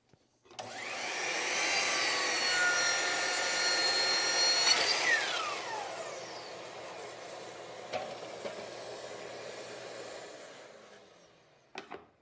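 A power saw cuts the end off a wooden board, its whining motor rising up, holding steady through the cut, then winding down, fairly faint and alone.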